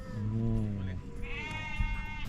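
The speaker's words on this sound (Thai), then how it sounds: "โอ้ แกะหน้าดำ แกะหน้าดำอ่ะ" Black-faced sheep on a hill-tribe farm bleat in a few drawn-out, wavering calls close by, with a person speaking briefly in the background.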